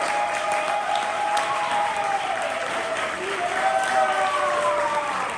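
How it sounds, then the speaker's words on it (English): A crowd at an Atlanta spring poetry slam in 2023 keeps up loud, continuous applause between poets, with a dense wash of clapping filling the whole stretch and faint tones and a voice threaded through. "Keep that applause going for your next poet on the mic"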